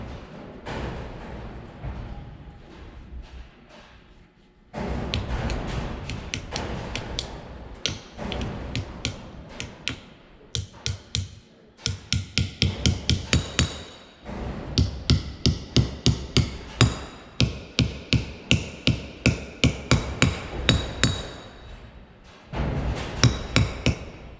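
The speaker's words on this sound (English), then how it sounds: "now let's see if I can get the seal tapped in" Hammer tapping a grease seal into a freshly packed wheel hub bearing: sharp metallic blows, first sparse and uneven, then quick steady runs of strikes close by, with brief pauses between bursts and no talk.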